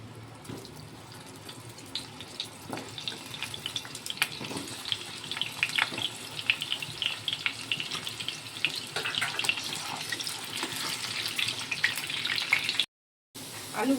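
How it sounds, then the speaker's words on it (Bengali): Potato pieces frying in oil in a pan, a steady crackling sizzle with dense fine pops running throughout, brief gap near the end, no talk. "এই আলুগুলোকে ভেজে নেব একটু লাল লাল করে।"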